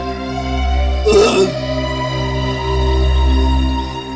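A single short, throaty burp breaks out over a steady low electrical hum, with no talking.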